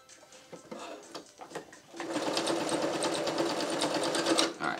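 Sewing machine stitching neoprene for a clown bodysuit, a few short hesitant bursts of stitching followed by a loud, fast, steady run of rhythmic needle clatter, close up and with no talking.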